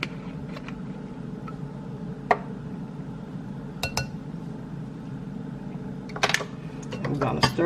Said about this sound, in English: We're going to stir this in really good.